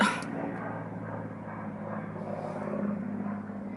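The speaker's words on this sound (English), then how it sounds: "There's a jet above us." A jet aircraft passes overhead while someone sits in a parked BMW; a steady low roar fills the whole stretch at moderate loudness, with no speech.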